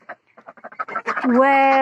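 Birds kept on a rooftop give a run of short, quick squawks building into a louder, drawn-out honking call, close by.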